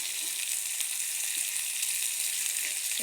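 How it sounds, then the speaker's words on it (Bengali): Chicken pieces sizzle steadily in a pan over a medium-low flame, a continuous even frying hiss with no talking, holding at a constant level throughout. "চুলার আঁচটা মিডিয়াম লোতে রাখবেন, তাহলে ভালো করে চিকেনগুলো সিদ্ধ হবে।"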